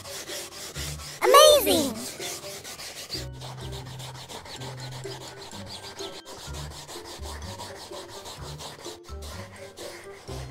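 A sofa is scrubbed with a brush in steady rubbing strokes that run close and continuous, with a brief loud burst early on and a short exclamation over it.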